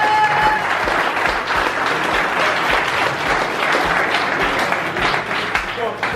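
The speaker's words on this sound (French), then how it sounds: "S'il vous plaît, applaudissez Monsieur Jean-Philippe Latour." An audience applauds a poker coach being introduced at the opening ceremony of a poker camp; dense, steady clapping fills the hall at close range, loud and continuous.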